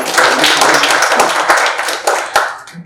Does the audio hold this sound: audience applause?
yes